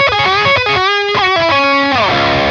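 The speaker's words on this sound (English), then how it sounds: "Now the Steve Morse, first with the gain boost off." An electric guitar plays a quick distorted riff through an ENGL Steve Morse lunchbox amp with the gain boost off, loud and close, ending on a sustained chord.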